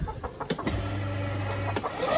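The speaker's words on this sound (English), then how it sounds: "Nice wee hen." A hen clucks in a barn with automatic timed feeders, a low sustained tone running underneath and short, close cackling bursts over steady background noise.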